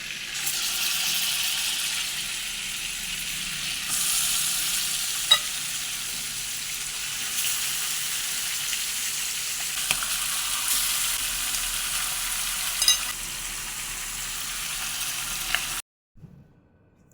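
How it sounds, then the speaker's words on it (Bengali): Marinated chicken fries in butter with garlic paste, producing a steady, close sizzle with occasional stirring clicks that stops abruptly near the end. "এখানে মুরগির মাংসটা বাটার দিয়ে ভাজছি"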